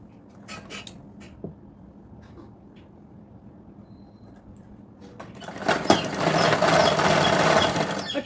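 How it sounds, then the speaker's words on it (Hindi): A sewing machine stitches a blouse seam, running loud and steady for the last few seconds after quiet handling noises and a few soft clicks. "मैं अब इसे सिल लेती हूँ।"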